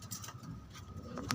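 A blue bar pigeon gives soft, low cooing close by, a brief rounded call over faint background noise with no clear talk.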